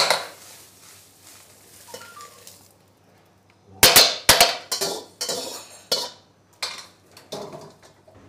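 Egg fried rice with scallions being tossed and scooped in a metal wok in Yangzhou: soft scraping at first, then a run of loud, close metallic clangs and sharp scrapes of a ladle against the pan, irregular and without talk.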